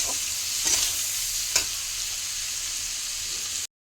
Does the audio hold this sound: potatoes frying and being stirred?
yes